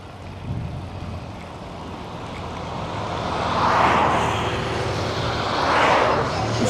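Gusty wind buffeting the microphone on a bike ride, rising in two broad swells of rushing noise over a steady low rumble, with no speech.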